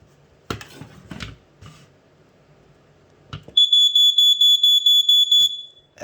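A Jameson Code One CD-M1 smoke alarm gives a run of about nine loud, shrill, evenly spaced beeps. A few soft handling clicks and taps come before the beeping starts.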